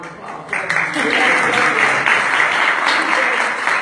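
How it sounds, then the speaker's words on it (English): Audience applause at a Tennessee forum on women, the law and justice, a dense wash of clapping that swells in after a brief lead-in and holds steady and loud throughout. "So just give her a round of applause."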